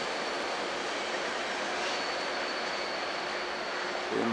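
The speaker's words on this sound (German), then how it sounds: "Und da hat schon wieder DB Cargo Einfahrt." A DB Cargo freight train rolls into Würzburg main station as a steady broadband rumble with a faint high whine, the noise holding level for several seconds and swelling slightly at the end, with no speech.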